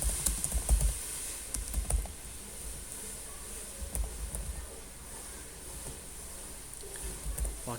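Someone types a company name into an online visa application form on a computer keyboard, giving a steady run of soft key clicks at close range, with a few louder taps near the start and end.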